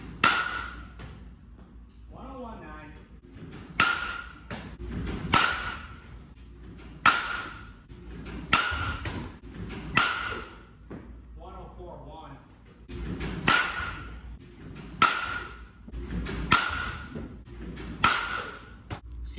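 Sharp, ringing impacts of a 2025 DeMarini Zen baseball bat hitting balls, about ten evenly spaced cracks with short pauses between them, loud and close, over low background noise and some faint talk.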